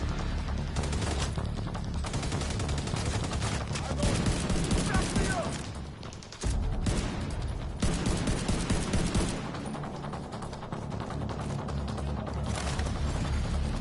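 Gunfire in the shooter game The Division 2, sustained bursts of rapid automatic shots and scattered single cracks over roughly fourteen seconds, loud and dense with brief lulls, with a voice speaking at times beneath the shooting.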